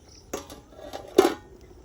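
Two light metallic clinks as a lid goes onto a cooking pot of mutton pulao, a soft tap followed by a sharper clatter, close and quiet in a kitchen.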